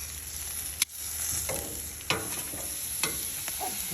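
Lamb steak sizzles steadily in a pan, a constant bright frying hiss punctuated by a few sharp clicks and taps of a utensil.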